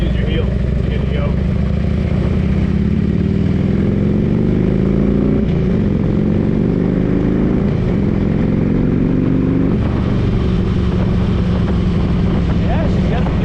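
A 2004 Harley-Davidson Road King motorcycle rumbles steadily while being ridden, its low engine note rising and falling through gear changes, with wind noise buffeting the microphone throughout and no talk.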